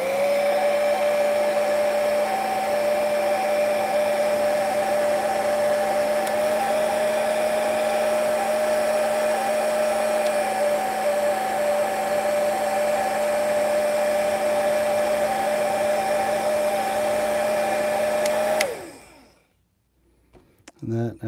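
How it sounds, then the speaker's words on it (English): A heat gun blows on a freshly painted rust-effect model part to speed drying, a loud steady whooshing hum with a constant tonal whine that cuts off abruptly near the end. "Now again, I grab said heat gun."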